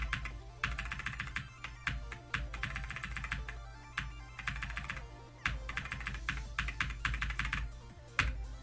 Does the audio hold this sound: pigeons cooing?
no